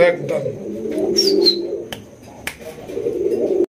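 Raj Golla pigeons coo in low, rolling murmurs, close by, with a few sharp clicks and a brief high chirp mixed in.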